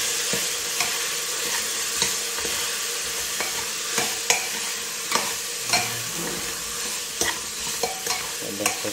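A spoon stirs a frying pea-and-potato masala seasoned with fennel and garam masala, giving a continuous close sizzle broken by repeated scraping knocks against the pan, with no voices.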